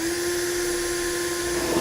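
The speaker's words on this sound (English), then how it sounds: "I'm going to go ahead and drill my pilot holes again, and then come back and enlarge them to a 9/16 hole" A power drill enlarges pilot holes to 9/16 inch for a Curt custom fifth wheel rail on a 2017 Chevy/GMC pickup, giving a steady, close, continuous whine with a constant tone throughout.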